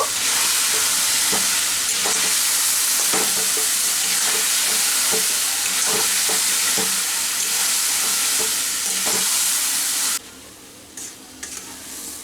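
Mashed mann kochu (taro) paste with spices stirred in a hot pan, giving a loud, continuous sizzle broken by repeated scraping strokes, then dropping quieter near the end.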